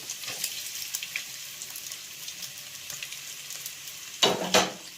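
Chopped ginger and garlic fry in hot oil for chicken stew, a soft crackling sizzle with light utensil scrapes, ending in two louder bursts of splashing or clattering.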